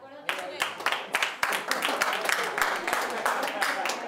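Conference attendees clap for a group's battering-ram creation during a creativity game, the applause starting abruptly and continuing in uneven, crisp hand claps, with voices mixed in.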